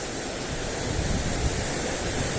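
Strong ocean waves surge and roar nearby on a rocky fishing shore, a dense, steady wash of surf mixed with wind buffeting the microphone, with no voices.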